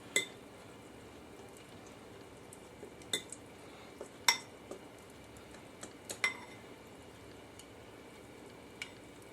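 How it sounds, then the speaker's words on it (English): Food is mixed in a bowl while preparing fried green beans. Sporadic, quiet clinks and light scrapes of a utensil against the bowl come against a soft, near-silent background, with no talking. "Mix it around, have a good mix."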